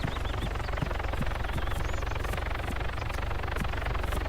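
Helicopter in a video game, a steady loud rotor thump with a continuous engine whine filling the whole stretch, close and unbroken.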